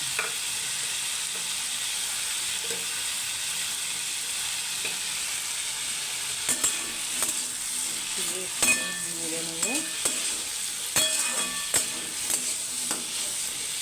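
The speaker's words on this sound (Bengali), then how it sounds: "এইবার আমি এর মধ্যে আমার পেঁয়াজ কুচিগুলো দিয়ে দিচ্ছি" Softened potatoes and chopped onions fry in a pan with a steady broadband sizzle, while spatula stirring adds scraping clicks and clatter through the second half; no talking.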